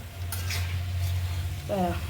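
Parippu vada (lentil fritters) frying in hot oil and being scooped out, with a steady low sizzle, a few light clinks of a metal utensil against the pan, and a short burst of voice near the end.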